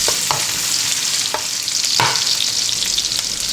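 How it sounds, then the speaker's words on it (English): Sliced garlic and onion sizzle loudly in hot corn oil in a pan, a dense, continuous frying hiss broken by occasional sharp clicks and scrapes of stirring. "We're gonna add to that 4 cloves of garlic, which I've sliced, and about a cup of onion."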